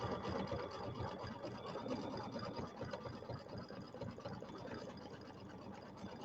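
An embroidery machine stitches a letter O on a hooped table topper, giving a steady, quiet mechanical whir with a rapid rhythmic needle pulse, fairly faint and continuous.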